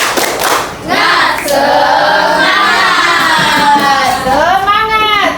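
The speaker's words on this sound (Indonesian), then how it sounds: "coba tepuk semangat dulu bagaimana? Tepuk semangat" Students in a classroom do a rhythmic spirit clap chant, clapping in patterned bursts and shouting together loudly and close, led by a teacher's voice.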